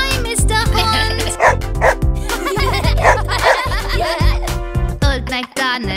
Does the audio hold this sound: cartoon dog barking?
yes